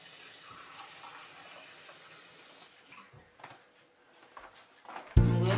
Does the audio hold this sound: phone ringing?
no